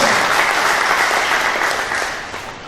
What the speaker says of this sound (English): Can we give that gentleman a round of applause?